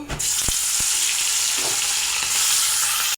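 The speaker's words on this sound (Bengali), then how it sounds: "এখন মাছের মাথা ভেজে নেব।" Fish heads fry in hot oil with a loud, continuous, close sizzle. A couple of sharp knocks sound early on, and no voice is heard.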